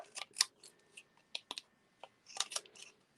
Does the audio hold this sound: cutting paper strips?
yes